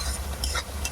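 Besan, onion and green chili masala frying in oil in a pan while being stirred, a steady close sizzle with scraping stir strokes, no voices.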